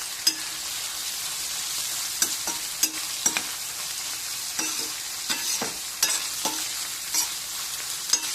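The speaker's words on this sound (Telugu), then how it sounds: "చక్కగా నూనెలో బాగా వేగనివ్వాలి" Mettalu, small dried fish, fry in oil for gongura curry with a steady bright sizzle, while a spoon stirs and scrapes the pan in sharp, irregular taps up close.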